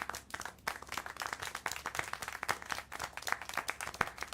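Scattered hand claps in a video game, several people clapping unevenly at close range, with sharp individual claps standing out over a steady patter.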